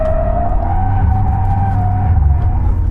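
A Xiaomi SU7 sliding through a corner on a track, with loud, continuous engine and road rumble and a drawn-out tyre squeal sustained across the whole moment, heard close from inside the car.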